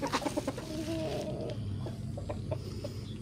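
Chickens cluck and murmur inside a coop that has gone unmaintained for nine months, several soft close calls overlapping over a steady low rumble, with no talking.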